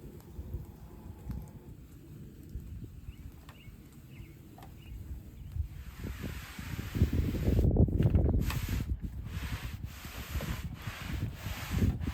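A brush scrubs a softwash cleaner onto a stucco house wall, with a quiet rubbing texture at first and then louder, rougher back-and-forth scrubbing close by.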